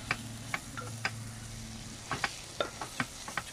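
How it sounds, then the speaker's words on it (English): Turmeric and cinnamon cooking in a pan are stirred with a series of sharp spoon taps and scrapes over a faint, low sizzle, a dozen or so spaced strokes. "So I'm going to stir it through, but I don't want it to burn. So I'm going to have to keep it moving, because I want these spices to cook."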